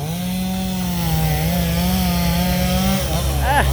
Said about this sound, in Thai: ทีมงานเลื่อยครับนะเป็นไม้ยางพารา ที่โค่นลงก็เอาไปขายได้พี่น้อง